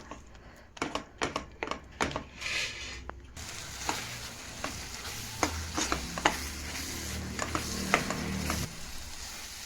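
Spoon scraping and stirring bobbatlu filling in a pan on the stove, a run of sharp irregular scrapes and knocks at first, then softer continuous stirring with a faint sizzle underneath.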